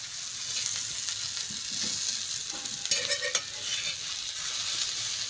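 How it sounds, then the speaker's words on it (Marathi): Besan alu vadi pieces stirred on a hot griddle give a soft, steady sizzle of frying, with a few scraping clinks of the spatula against the pan in the middle, and no talk. "आता हे असं हलवीत राहायचं आहे, म्हणजे आपल्या वड्या चांगल्या गरम होतील"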